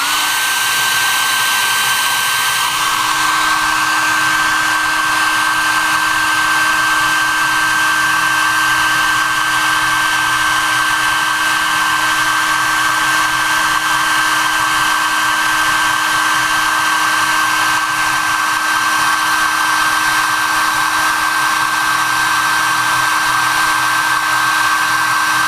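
A hot air blower runs with a steady, continuous whine and airy hiss for the whole stretch, heating the fuel lines on a GoPed gas tank; the tone holds level and loud with no pauses or talk.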